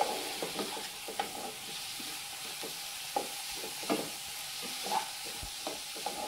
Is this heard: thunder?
no